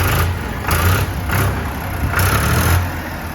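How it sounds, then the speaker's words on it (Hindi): Digitrac PP43i diesel tractor engine, a 2024 model rated at 47 HP, idling steadily nearby with a deep low throb and slight pulsing swells, with no talk. "कुछ इस प्रकार की ट्रैक्टर की साउंड है।"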